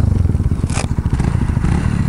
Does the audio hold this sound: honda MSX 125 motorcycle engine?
yes